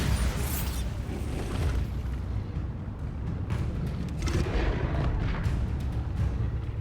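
Bombarda spell explosions in the video game Hogwarts Legacy, heavy rumbling booms rolling one into another amid a steady low roar of combat noise, with sharper blasts cracking through near the middle and end.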